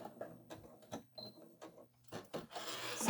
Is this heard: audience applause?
no